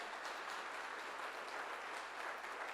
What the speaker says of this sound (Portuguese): Se for para ele, pode aplaudir porque ele merece.